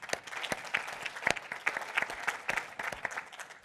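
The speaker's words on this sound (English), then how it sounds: "I'm just going to say a big round of applause for all of our good fortune for being in this business." An audience at a business town hall event applauds, a sparse, close-sounding round of individual claps that carries on steadily without cheering.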